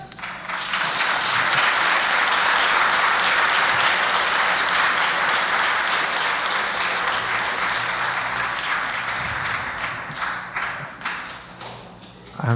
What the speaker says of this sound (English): I know you guys love to clap